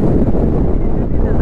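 Strong wind over a river, heard as loud, continuous buffeting against the microphone with a low roar and no clear voice.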